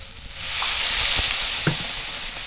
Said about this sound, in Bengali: মশলাটা একদম ভালো করে কষিয়ে নেব